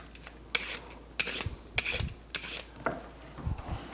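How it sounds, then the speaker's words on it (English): A peeler scrapes down carrots in a series of about seven quick rasping strokes at a steady rhythm, close and fairly quiet, with no talk. "let's go ahead and peel these carrots here."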